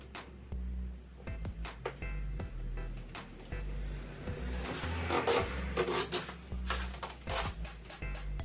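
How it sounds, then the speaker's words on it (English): Knifeless tape is pulled through excess 3M Vvivid 2080 vinyl film on a car, giving close rasping, rubbing scrapes in uneven strokes that grow denser and louder toward the end. "now we're gonna use the knifeless tape to cut out the excess vinyl"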